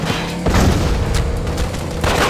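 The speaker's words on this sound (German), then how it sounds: "So, der explodiert jetzt hier." A car explodes in The Godfather video game, a loud, sustained booming blast with rumbling low end that runs continuously for a couple of seconds with a few flaring bursts, with no talking over it.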